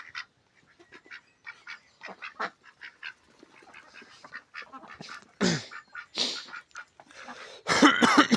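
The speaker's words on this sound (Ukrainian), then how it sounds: "Там бої за качку" Several ducks quack repeatedly at close range during mating season, with scuffling squawks as drakes fight and a burst of loud, harsh honking near the end.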